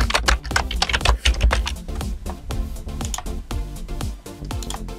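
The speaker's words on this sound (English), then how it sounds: "type in a name" A computer keyboard clatters under rapid typing of a project name in Visual Studio, a dense, close run of crisp key clicks with brief pauses, no talking.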